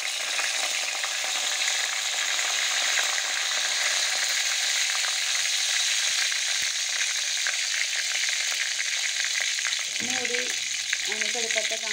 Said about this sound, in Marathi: आणि कढीपत्ता चांगला तडतडलेला आहे।